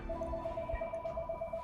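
A telephone rings in a steady warbling electronic trill that repeats evenly through the clip, fairly close and clear over a low background hum, with no voices.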